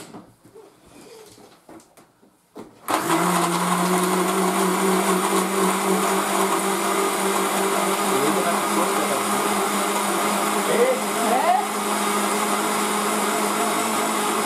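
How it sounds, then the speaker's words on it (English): A blender whirs through a kale smoothie, starting abruptly after a few seconds of quiet and then holding a loud, steady motor drone with a strong low hum until the end. "We turn on the blender!"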